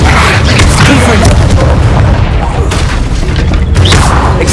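A Confringo fire spell from Hogwarts Legacy bursts in loud, dense explosive booms and crackling blasts, one after another in continuous combat, with voices talking over the noise.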